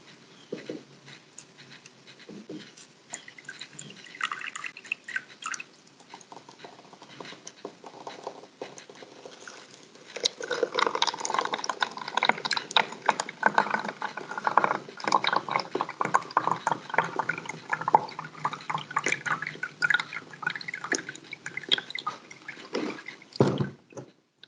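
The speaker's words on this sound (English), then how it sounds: "Now we're going to pour water into each of these water bottles." Blue-dyed water poured into plastic water bottles filled with gravel, sand and clay for a recharge zone demonstration, pattering and trickling steadily, quieter at first and then louder and fuller from about ten seconds on.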